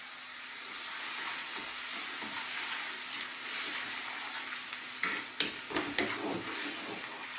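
Garlic ginger paste frying gently over low heat in a pan for a Bengali rohu fish curry, giving a steady soft sizzle with a few sharp clinks near the end, and no one speaking.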